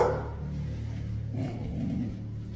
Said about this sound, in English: His dog is aware of this weirdness and barks in confirmation that there might be an intruder.